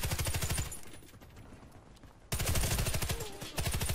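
Rapid automatic gunfire from the online shooter Warface, loud bursts of evenly spaced shots that pause briefly mid-clip and then resume at full intensity, with no talk over it.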